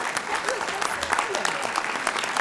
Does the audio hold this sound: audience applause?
yes